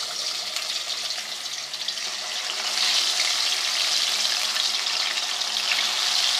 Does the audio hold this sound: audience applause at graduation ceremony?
no